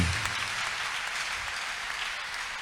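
A church congregation breaks into sustained, dense clapping, a loud, even wash of applause filling the room without pause.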